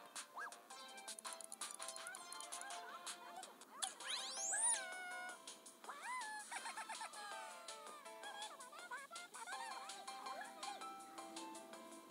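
A cat meowing in the game Vlogger Go Viral, several rising, sliding meows spread across a quiet stretch over soft background game sounds, with no talk.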